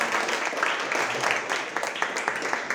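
A church congregation applauds during a worship service, a fairly close crowd of hands clapping with individual claps standing out and some voices underneath.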